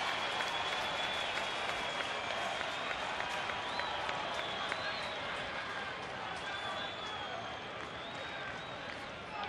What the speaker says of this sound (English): And the crowd coming to their feet.